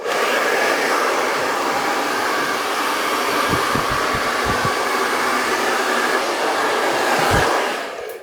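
A hair dryer blows on its cold setting over freshly cut hair, a loud, steady close whoosh lasting about eight seconds, with a few soft low bumps partway through, then a brief drop as it switches off.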